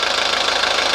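A 1983 Mercedes 240D diesel idles with a slight shake, giving a steady, close, even clatter with a dense rattling texture and no pauses or voices.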